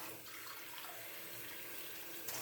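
Water poured into a pot of chili con carne being cooked for a crock pot, a steady close splashing rush that runs unbroken for a couple of seconds with no talk.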